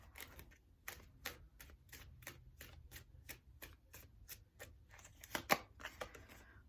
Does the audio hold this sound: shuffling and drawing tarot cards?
yes